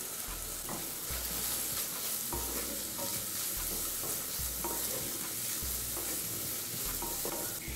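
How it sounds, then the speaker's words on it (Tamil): Onion and tomato fry in a pan with a constant soft sizzle, punctuated by regular rhythmic scraping strokes of a stirring spatula, close and steady. "இப்போ வெங்காயம் தக்காளி வதங்கிடுச்சுங்க."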